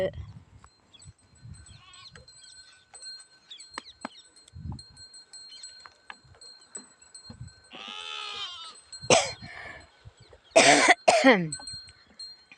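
Goats bleating on a rural farm, a few loud wavering calls near the end of a mostly quiet stretch with scattered small noises and a cough-like sound, heard close.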